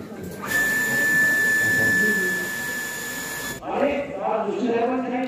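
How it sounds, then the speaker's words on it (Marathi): A water ATM machine switches on and runs with a loud, steady mechanical hum and a high whine for a few seconds, then cuts off as voices take over. "आता पॉवर झाली आता मशीन चालू करू का"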